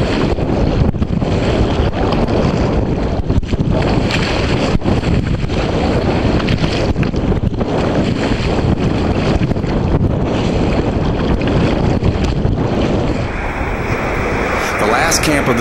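Strong wind gusting over open Chesapeake Bay water on a kayak tour, loud buffeting rumble against the microphone with choppy waves splashing, continuous and close throughout.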